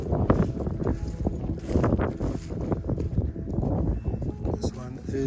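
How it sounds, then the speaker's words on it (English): Gusty wind buffets the microphone outdoors in a garden planted with banana stumps, blueberries and guava, a loud rumbling roar that rises and falls throughout. "Sorry about the wind."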